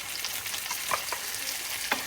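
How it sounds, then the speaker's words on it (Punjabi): Chopped tomatoes and green chili roasting in a pan for langar-style dal, a steady hiss with a few light clicks of stirring, close and without speech. "ਇਹਨਾਂ ਨੂੰ ਆਪਾਂ ਚੰਗੀ ਤਰ੍ਹਾਂ ਹਿਲਾ ਦੇਣਾ ਤਾਂ ਤੇ ਇਹਨਾਂ ਨੂੰ ਸੌਫਟ ਹੋਣ ਤੱਕ ਆਪਾਂ ਭੁੰਨਣਾ ਹੈਗਾ"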